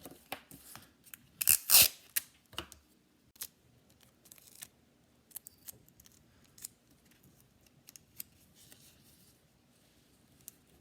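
Adhesive tape is pulled from a roll and pressed down onto paper over a drawing: a loud ripping burst near the start, then soft close taps and rubs as it is smoothed down, with no talking.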